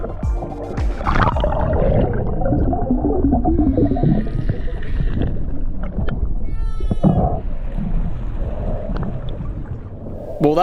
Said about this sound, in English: There's a whale just there too!